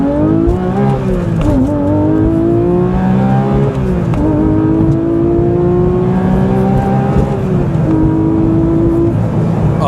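A Porsche 911 GT3 with Manthey Racing parts launches hard from a standstill, its engine loud and close, pitch climbing through gears in repeated rising sweeps with brief dips at each shift.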